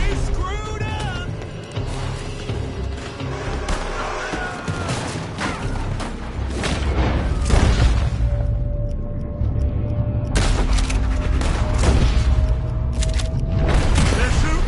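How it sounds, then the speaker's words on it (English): Gunfire coming from a building during a shootout in Red Dead Redemption 2, a fusillade of sharp cracks and booms scattered over rumbling action noise, with voices talking and shouting over much of it. "They're shooting from that building."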